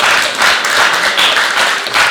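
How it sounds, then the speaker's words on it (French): A church congregation at a Methodist worship service in Brooklyn claps in uneven surges, a short burst of applause rising and falling over about two seconds. "Est-ce que nous avons acclamation pour Sœur Régine?"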